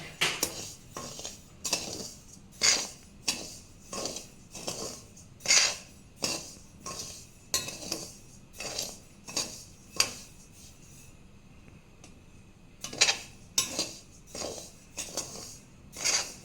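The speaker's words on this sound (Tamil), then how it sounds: "பற்ற வச்சுட்டு இந்த சம்பா கோதுமை ரவையை வறுத்துக்கலாம்" Metal spatula scraping and knocking against a pan while half a kilo of samba wheat rava is dry-roasted on a gas stove, in a loose rhythm of sharp clinks and scrapes with short gaps, close and alone.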